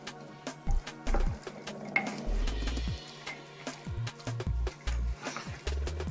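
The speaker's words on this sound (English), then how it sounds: "Okay, so I'm going to stir all of this together." Boiled beans are stirred in a crock pot in the Balkans, giving uneven scraping strokes with dull low thumps and bumps from the spoon against the pot, close and fairly quiet.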